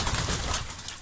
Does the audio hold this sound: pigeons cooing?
yes